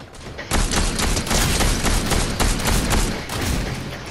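Rapid, loud bursts of gunfire in the Fortnite video game crackle almost continuously after a short lull, with sharp repeated shots layered into dense, close volleys and no talk over them.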